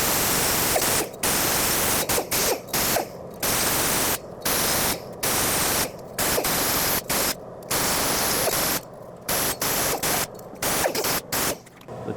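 A die grinder fitted with a soft pad scours rust off a Hyundai Sonata brake hub, making loud, close, broadband grinding hiss in repeated bursts separated by short pauses.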